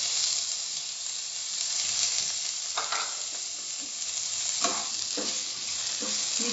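Chopped tomatoes fry with browned onions for Punjabi dal tadka, a constant sizzle broken by a few stirring scrapes, with no talking.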